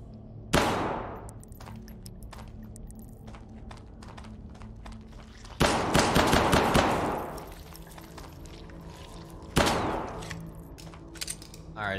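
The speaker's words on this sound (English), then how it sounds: "Alright, I'm gonna shoot at it." Gunfire in Hidden Deep: three loud, separate bursts of shots with ringing decays and quieter clicks and rattles between them.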